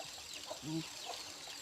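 Faint, distant clucks and a short calling note from a rooster and hens, a few soft scattered calls over quiet background noise.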